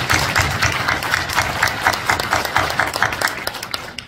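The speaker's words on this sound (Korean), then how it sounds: "하나님께 영광의 박수 올려드리겠습니다." A church congregation at a New Year's Eve service claps in a fast, even rhythm, a loud, close run of regular claps.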